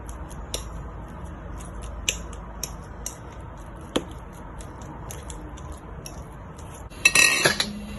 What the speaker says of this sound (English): put the red and the yellow one together. Use the fork to press it. Okay, smash it.